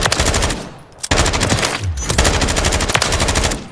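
Sustained bursts from an M249 Paratrooper SAW light machine gun in Call of Duty: Modern Warfare III, loud and close, with rapid continuous automatic fire broken by a brief pause near the one-second mark before resuming.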